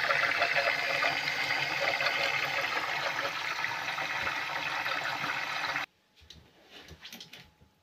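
Water rushes and churns steadily inside a dishwasher under service, a dense continuous wash that cuts off abruptly near the end and leaves faint trickling and drips.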